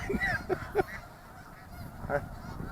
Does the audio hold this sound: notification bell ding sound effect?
no